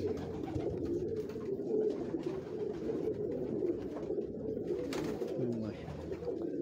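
Salare pigeons with black-edged feathers coo on a Lahore rooftop, their low, throaty calls overlapping in a continuous murmur from several birds at close range.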